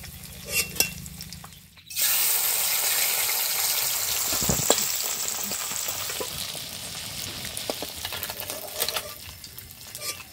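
Fish pieces fry lightly in mustard oil, a dense continuous sizzle after a short quieter start, with scattered clinks and stirring scrapes over the crackle.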